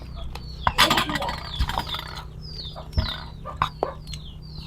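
Chickens clucking at a rural Thai home, with several short calls and rustling scattered over a steady low background hum, fairly close.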